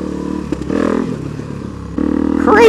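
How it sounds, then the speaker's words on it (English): Street-legal dirt bike engine running close by, a throaty rumble that swells in two bursts, the second rising into a revving whine near the end, with some scraping clatter in between. "Crazy kids in your dang street legal dirt bike machines"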